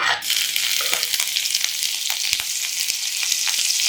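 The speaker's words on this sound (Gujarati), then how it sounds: "તેલ ગરમ થઈ જાય એટલે આમાં બે સમારેલા મરચાં ઉમેરવાના" Steady, loud sizzling of two chopped chillies frying in hot oil, with occasional small pops and crackles throughout.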